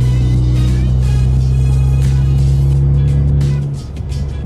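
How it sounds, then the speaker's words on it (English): A loud, deep exhaust drone rumbles steadily up close, then drops off suddenly as the engine note falls away near the end. "this exhaust is droning extremely loud right now"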